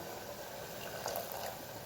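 Curry of cluster beans (guvar) simmering in a pot, a soft steady bubbling hiss throughout with a few slightly louder pops near the middle, no talk.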